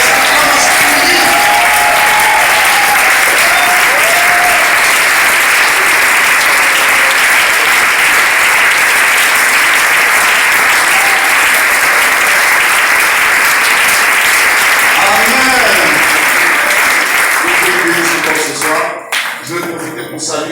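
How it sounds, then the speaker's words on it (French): A church congregation at a pastors' conference stands and applauds loudly for about eighteen seconds, a dense and sustained roar of clapping and cheering voices that thins out toward the end. "nous allons doublement honorer notre papa en nous tenant debout et en offrant à l'Éternel des acclamations nourries"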